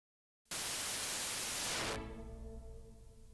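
Hiss of 8-bit quantization error noise boosted 24 dB bursts in after a short silence, holding as a loud broadband wash before thinning into a quieter, slightly tonal noise floor.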